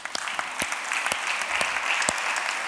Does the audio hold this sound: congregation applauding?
yes